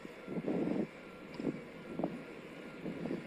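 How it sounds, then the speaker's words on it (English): A low, distant rumble of airplanes taxiing at an airport, swelling and fading in a few soft surges, with wind noise over the microphone. "we're getting the noise from the planes taxiing"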